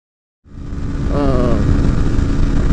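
Honda Z-125 motorcycle engine during a top-speed run, starting suddenly from silence and building into a loud, close, steady buzzing drone.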